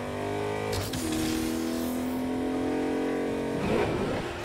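A car engine drones steadily in the racing game Agents of Mayhem, holding a high revving tone with shifts in pitch and a brief scuffing burst near the end, loud and close.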